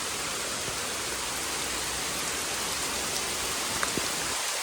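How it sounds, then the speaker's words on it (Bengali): Heavy rain pours down steadily in a village, a dense, even hiss of falling water with no pauses across the whole stretch. "প্রচণ্ড বৃষ্টি হচ্ছে।"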